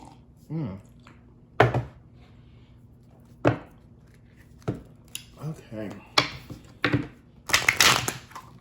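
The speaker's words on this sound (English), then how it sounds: "I'm going to get these cards shuffled for you" Irregular bursts of riffling and soft slapping as tarot cards are handled and shuffled, with brief pauses between, close up and moderately loud.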